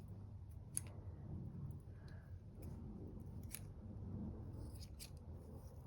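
Scissors trim a feather in a handful of faint, crisp snips spread across a quiet stretch, close by with no talking.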